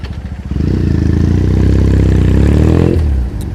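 A motorcycle rides through Tokyo traffic, its engine rising into a loud, sustained revving drone that holds steady before dropping off near the end, with clattering mechanical noise around it.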